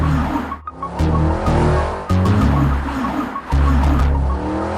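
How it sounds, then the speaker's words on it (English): The 4-liter V8 of a 2023 Mercedes-AMG GT 63 S E Performance hybrid roars loud and close, revving in repeated surges with brief dips between bursts. "I would still listen to the roar of this big fat V8"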